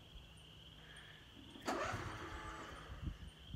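A riding lawnmower engine, cold, struggles to start: after a quiet stretch with faint insect chirps, the starter kicks in with a sudden loud burst that sputters and fades into uneven low rumbling without catching.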